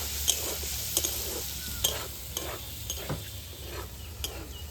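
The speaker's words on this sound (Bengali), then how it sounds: "ফুটে রাখা মোচা দিয়ে দিলাম ভালো করে এইভাবে মিক্স করে নেব" A spoon stirs boiled banana flower into spices in a frying pan, with soft scraping strokes and light clicks over a continuous sizzle, near and steady, with no one talking.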